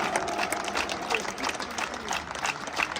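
A crowd at an outdoor 3x3 basketball dunk contest claps and cheers in a dense, steady burst of applause, moderately close and continuing throughout.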